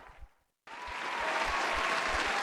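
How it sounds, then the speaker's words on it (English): A crowd at a hockey trophy presentation after a cup final breaks into loud applause and cheering, which swells after a brief silence and holds as a dense, sustained roar. "in front of the roaring crowds, Valera Atlas, next to the Emperor"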